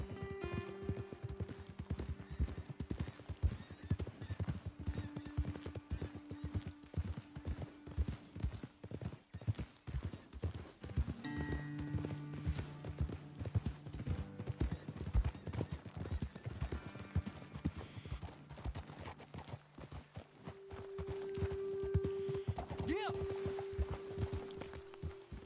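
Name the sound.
horses trotting in Red Dead Redemption 2 video game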